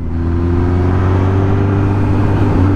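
An Exeet quad-like vehicle accelerates hard, its loud, close engine holding a steady droning roar with a rising whir throughout.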